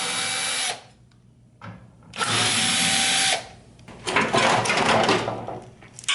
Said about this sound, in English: We need to flip over and unscrew it from the bottom here.